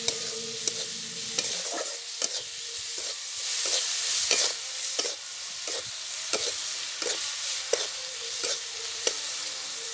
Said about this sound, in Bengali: এবার স্বাদ মতো লবণ, পরিমাণ মতো হলুদ দিয়ে সুন্দর করে নাড়িয়ে নিলাম